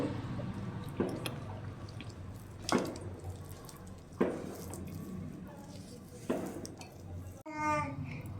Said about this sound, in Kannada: ಈ ಥರ ಕಲಿಸ್ಕೋಬೇಕು ಅತಿ ಗಟ್ಟಿಯಾಗೂ ಕಲಿಸ್ಕೋಬಾರ್ದು ತೆಳ್ಳಗೂ ಕಲಿಸ್ಕೋಬಾರ್ದು ಈ ಥರ ಇರಬೇಕು ಚೆನ್ನಾಗಿ ನಾದ್ಕೋಬೇಕು